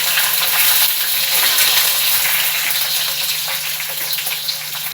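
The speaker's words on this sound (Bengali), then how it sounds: "এই তেলেতেই দিয়ে দেবো বেগুনগুলো, হালকা ভেজে নেবো" Eggplant pieces frying lightly in oil for a Bengali tangra fish curry, a steady loud hissing sizzle with faint bubbling that holds evenly for several seconds before cutting off.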